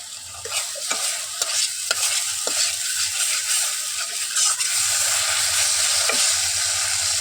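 Food sautés in a pan with a steady sizzle while a utensil scrapes and stirs in repeated strokes, close and continuous, with no talking.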